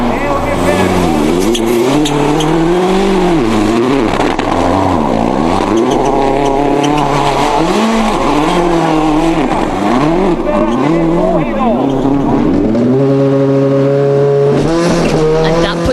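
Peugeot 307 WRC rally car of the OMV Norway team at speed on a Rally Sweden stage, its engine revving loud and close through gear changes with rising and falling pitch, under continuous commentary and pace-note voices.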